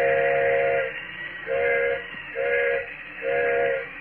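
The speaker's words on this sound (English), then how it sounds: "Engineer's whistling for a flagman." A train engineer sounds the whistle to call a flagman on a stalled mountain train: three to four long steady blasts in a repeating rhythm, loud and close, with a low rumble underneath.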